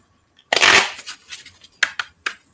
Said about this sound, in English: Well, I ain't shuffled like this in a while.